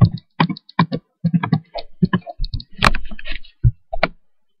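Someone types a login on a computer keyboard, with irregular, close-up bursts of keystrokes broken by short pauses.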